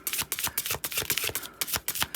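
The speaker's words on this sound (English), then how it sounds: "it's a little bit more difficult to shuffle" Quiet, rapid riffling and slapping of tarot cards being shuffled slowly, with irregular crisp clicks close by.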